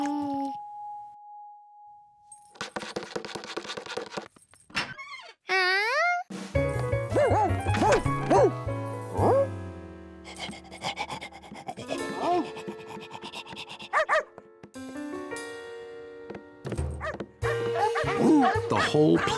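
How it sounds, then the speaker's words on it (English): Cartoon dogs in a room yip and bark, with many barks scattered over lively music and tinkling effects, interrupted by spoken narration. "The whole place was filled with strange dogs."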